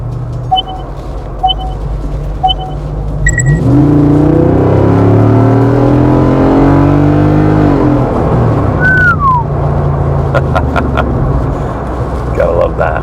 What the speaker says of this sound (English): That exhaust has such a great rumble to it.